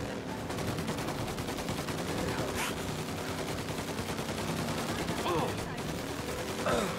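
Sustained gunfire in the crime game Mafia: Definitive Edition during a car chase, a dense rattling stream of shots running throughout at moderate loudness over engine and road noise, with a few louder cracks.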